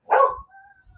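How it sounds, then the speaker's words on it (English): A single short dog bark, loud and close, followed by a faint high whine that trails off. "That's why Marley's barking"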